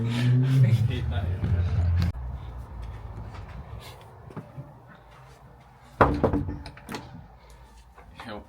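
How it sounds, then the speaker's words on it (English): A door being opened indoors during a podcast recording, with a couple of sharp knocks and bumps standing out while people talk nearby. "So, you opened that door pretty quick."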